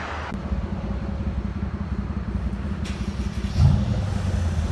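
Close, continuous low rumble from the exhaust of a Mercedes CLS 550 4.7-liter twin-turbo V8 with the muffler deleted, idling with a brief blip near the end and no talking.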